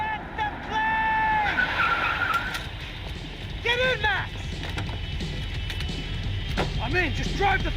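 A car drives and skids with squealing tires during a chase in the video game Max Payne 3, the engine roaring under shouted in-game dialogue, with repeated tire screeches close by.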